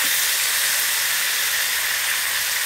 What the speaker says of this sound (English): Okay, guys, our lamb is being fried off now.